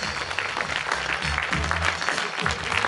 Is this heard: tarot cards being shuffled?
no